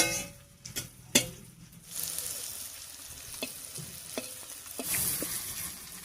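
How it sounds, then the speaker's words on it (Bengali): Dried red chilies fry in hot oil with a soft, continuous sizzle, broken by a few sharp clinks and taps of a utensil against the pan early on, quiet and close. "একটু ভাজা হয়ে যায় শুকনো লঙ্কাটা"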